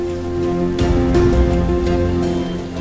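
Rain falling steadily in a Ramayan television drama scene, a continuous wash of drops laid over a sustained musical score, with a brief louder swell partway through.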